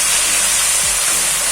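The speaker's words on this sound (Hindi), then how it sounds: "और इसमें हम अपना पेस्ट डालेंगे अदरक लहसुन का" Ginger garlic paste hitting hot oil with cumin seeds and fenugreek in a pan, a loud, dense, continuous sizzle right up close, with no voice over it.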